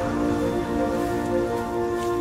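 Steady rain falling on a surface, a dense continuous patter with a faint underlying hum, close and even throughout with no voices.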